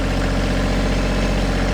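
A KIOTI tractor engine running steadily while pulling old posts with a grapple and no ballast on the back, a loud, close, even diesel drone with a low throbbing pulse and no voices.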